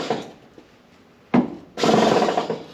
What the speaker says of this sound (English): I'm going to have to start cutting screws.